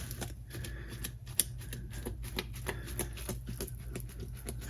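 Fingers poking holes into oiled focaccia dough topped with coarse salt, thyme and rosemary, a quick irregular patter of soft, sticky taps, close and fairly quiet, with no talking.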